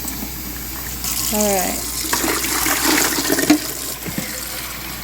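Hot water pours into an Igloo countertop ice machine, a splashing rush of liquid lasting a few seconds at close range, with a brief spoken word and some handling knocks near the end.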